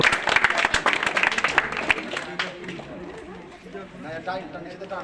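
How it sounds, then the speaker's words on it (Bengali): A crowd at a 79th Independence Day celebration at a local club in Bardhaman claps in a loud, dense burst lasting about two seconds. The clapping then fades under voices and chatter. "হাততালি হাততালি দাও"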